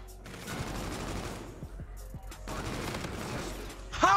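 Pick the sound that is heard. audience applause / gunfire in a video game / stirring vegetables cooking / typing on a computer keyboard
gunfire in a video game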